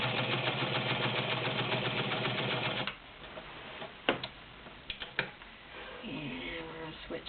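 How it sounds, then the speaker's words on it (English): A White Model 614 heavy-duty sewing machine sewing a straight stitch, its motor and needle giving a loud, steady rapid chatter for about three seconds before stopping, followed by a few clicks and handling sounds. "So right now we're going to go straight stitch."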